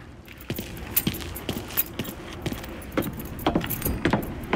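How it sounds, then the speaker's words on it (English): Keys jangle in a Mafia 3 video game scene, a run of sharp metallic clinks and rattles coming in bursts over a low background rumble, growing busier toward the end. "You got the keys so you can drive."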